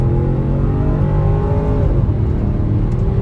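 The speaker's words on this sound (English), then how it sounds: "The Cayenne GTS is really a great sounding SUV" A Porsche Cayenne GTS SUV accelerates hard, its engine note loud and steady with a rising then settling pitch, heard close throughout with no talking.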